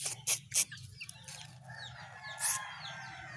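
Chickens cluck and squawk nearby in a yard under a jackfruit tree, several sharp bursts early and again near the end, over a low steady background hum.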